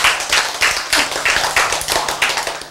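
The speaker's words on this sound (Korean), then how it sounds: "박수!" A church congregation claps in a steady rhythmic pattern of repeated group claps, fairly close and loud, with a low hum running underneath.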